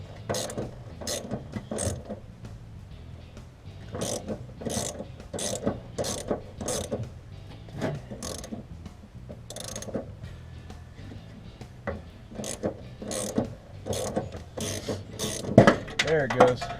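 Ratchet wrench clicking in repeated bursts while loosening the shock absorber mounting on an old Valiant's suspension, close and fairly loud, with brief pauses between strokes and some faint talk in the background.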